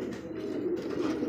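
Soft, low cooing of short-face pigeons kept on a farm, a faint continuous murmur with no talk over it.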